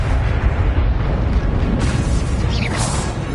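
An Expelliarmus spell cast in the video game Hogwarts Legacy makes a loud, booming burst with a roaring rush. A sharp whooshing flare rises near the end of the brief sound.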